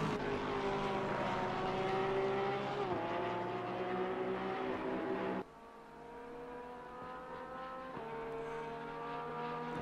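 A 2020 Porsche race car in Assetto Corsa Competizione at Misano screams at high revs, its engine note holding steady then dropping sharply on a gear change and climbing again, loud and continuous with no voices.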